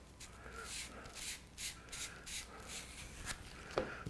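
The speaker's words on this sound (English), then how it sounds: "Same thing with this one, just sand the end." Sandpaper rubs against the end of an arrow shaft in soft, rhythmic strokes, a quiet, steady scratching that repeats about twice a second, close by, with no talking.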